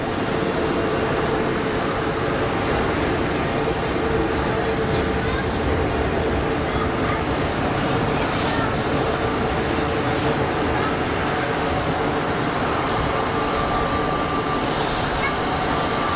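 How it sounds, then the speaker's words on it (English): An EasyJet Airbus A320 landing at Geneva Airport and braking hard, heard as a loud, continuous broadband engine roar with reverse-thrust rumble that holds steady throughout. "EasyJet 320 slowing up really quick there, making it look effortless"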